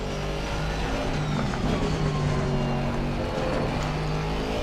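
Aston Martin GT4 race car engine in a racing video game, a steady droning engine note holding at speed for several seconds, continuous and fairly loud with no talk.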